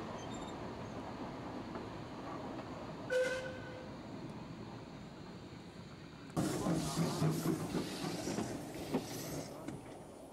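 A train rumbles into a station at the Buckinghamshire Railway Centre gala, a steady low rolling rumble with a brief whistle early on, growing louder and rougher with clanking as it draws close in the second half.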